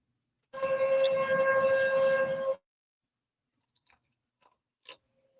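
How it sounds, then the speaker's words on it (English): A civil defense tornado siren sounds outdoors in the Midwest, a loud, steady, tonal wail for about two seconds that cuts off abruptly, followed by a few faint scattered clicks and taps. "The tornado sirens going on."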